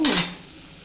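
A spoon or ladle scrapes and clinks against a pan while ivy gourd (dondakaya) curry is stirred, one short bright metallic stroke that fades quickly, close and fairly loud, with no talking.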